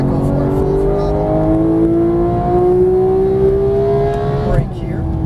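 A GT3 race car engine in a racing video game roars loud and steady at full throttle, its pitch climbing continuously for several seconds before a brief dip, with a voice talking over it.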